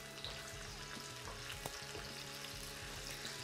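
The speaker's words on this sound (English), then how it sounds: "we're going to add the garlic and the anchovies. Yes, all at the same time, and we're going to stir it" Garlic and anchovies fry together in a pan, a soft steady sizzle underneath occasional light stirring scrapes, faint and close with no talking.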